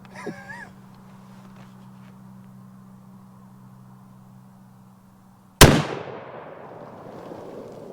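A single sharp firearm shot cracks loudly at an outdoor shooting range and rings off into a fading echo, after a brief voice at the start and a long quiet stretch with a low steady hum.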